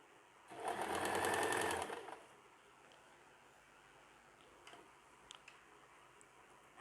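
A domestic sewing machine whirs in one fast burst of roughly a second and a half while stitching a seam on extra-large night pajamas, then falls quiet to faint room noise and a few light clicks.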